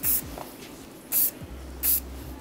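Keraspray hairspray misted onto a pixie haircut in three short, sharp hissing bursts about a second apart, close and fairly loud, with quiet handling sounds between them.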